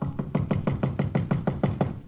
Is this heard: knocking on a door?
yes